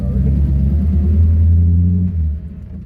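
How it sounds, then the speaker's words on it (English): A 1932 Delage D8S engine pulls steadily while the big car drives, a deep, loud low rumble holding constant for nearly three seconds before easing off slightly at the end. "more just to let you guys feel the sound of the engine"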